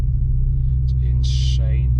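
Heard from inside a 720bhp 2020 Audi RS6, a deep, steady low exhaust drone holds constant under brief bits of talk and small cabin noises.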